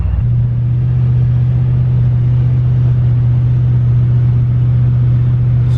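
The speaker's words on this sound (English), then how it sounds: "just cruising around in the 2013 Camaro here" The LS-swapped engine of a 2013 Camaro with a six-speed rumbles while cruising, a loud, steady low drone from inside the car holding an even pitch throughout, with no speech.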